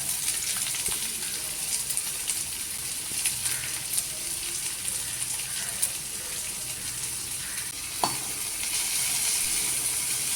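Finely chopped onion sautés in hot oil for a fish masala vada curry, giving a steady, even sizzle that fills the whole stretch. One short knock of a utensil cuts through, and there is no talking.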